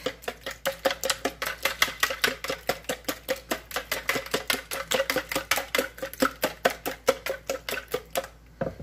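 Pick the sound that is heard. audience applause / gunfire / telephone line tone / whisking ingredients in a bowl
whisking ingredients in a bowl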